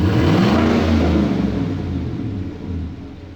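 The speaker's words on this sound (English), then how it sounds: "Rev it again." A 2018 Chevrolet Silverado with a freshly installed aftermarket intake revs up loudly nearby. The low engine roar climbs, then eases off and tapers over a few seconds.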